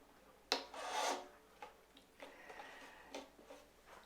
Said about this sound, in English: Let's put your shoulder rest on the violin